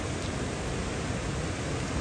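Heavy, steady downpour at a camping spot, a dense continuous hiss of rain filling the whole clip at an even loudness with no voices.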